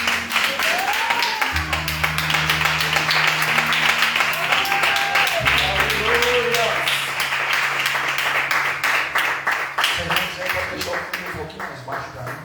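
A church congregation claps steadily in rhythm while voices sing and speak over it, with a low droning tone underneath throughout.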